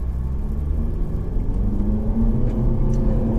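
An all-wheel-drive sporty car launches from a standing start at about 600 RPM, a loud close engine rumble holding steady with a low droning tone throughout, no voices.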